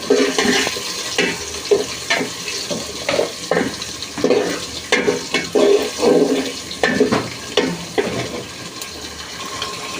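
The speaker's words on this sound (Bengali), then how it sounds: "এখন একটু নেড়ে নিব।" A spoon stirs onion, garlic and chili frying in a pot for khichuri, with a steady run of scraping strokes over a soft sizzle, close and fairly loud.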